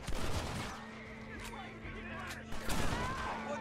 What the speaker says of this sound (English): All these random explosions are nice.